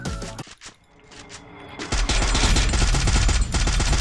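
Rapid automatic gunfire from the mobile shooter game Free Fire, a few scattered shots at first and then a dense, continuous loud burst of rattling fire with heavy low thumps.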